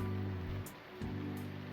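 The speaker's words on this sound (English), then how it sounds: "It's been raining since early this morning," Rain in the video game Robotics;Notes Elite, a steady soft hiss of rainfall with faint low rumbling, quiet and continuous with a brief dip partway through.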